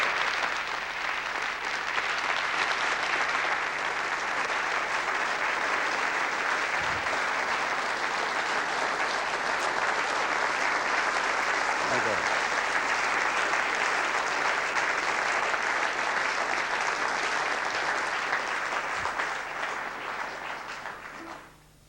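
A theatre audience gives sustained, dense applause to welcome a speaker, steady and full for about twenty seconds before tapering off at the end.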